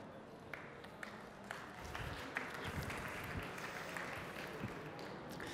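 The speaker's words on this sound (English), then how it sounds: "So give a warm round of applause to the co-CEO of Celonis, Mr. Alexander Rinke." Steady applause from a conference audience at a Celonis talk, a dense wash of many hands clapping at a distance, holding fairly even throughout.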